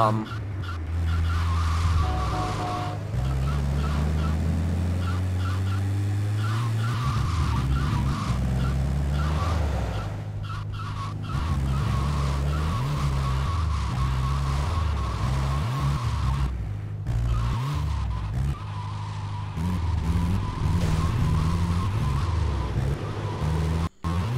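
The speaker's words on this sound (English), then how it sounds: "these trucks are actually pretty fast" Trucks driven fast in GTA Vice City Stories, a loud continuous engine roar with shifting revs and tire skids across a long stretch, dense game sound throughout.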